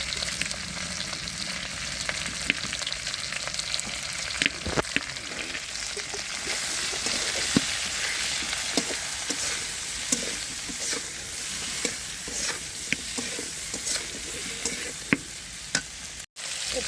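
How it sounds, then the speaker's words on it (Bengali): Green chillies frying with turmeric and salt in a pan, a steady dense sizzle with occasional spatter pops and stirring scrapes running throughout. "এটা সুন্দর করে ভেজে নিয়েছি"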